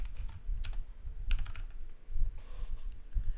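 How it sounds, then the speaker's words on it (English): Typing on a computer keyboard, a close run of quick uneven key clicks with no voices, as when pressing Enter to add another bullet in a Google Docs list. "just hit enter on your keyboard."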